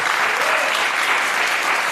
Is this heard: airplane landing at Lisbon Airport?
no